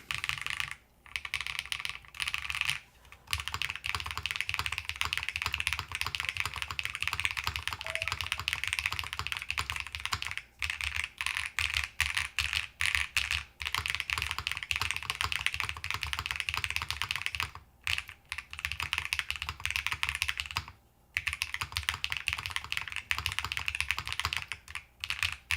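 Continuous typing on a Bauer 65 mechanical keyboard in Isla Amber, a dense, steady stream of close key clacks with a few brief pauses, heard alone without talk.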